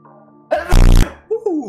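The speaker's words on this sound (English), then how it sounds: "I have to sneeze." A loud, close sneeze bursts out with a short inhale build-up and a sharp explosive release, followed by a brief breathy voice afterward, heard while a horror game called Scrutinized is being played.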